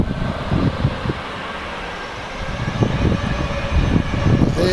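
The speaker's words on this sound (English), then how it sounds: "The Turkish A321 at the back there." A Turkish Airlines Airbus A321 jet bound for Istanbul rumbles steadily in the distance at Manchester airport, a broad continuous roar with faint rustling nearby.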